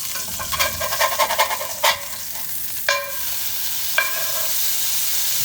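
A smash burger sizzles steadily in a cast iron pan on a stovetop over low to medium heat, with sharp scraping clacks from a spatula scattered over the continuous frying hiss.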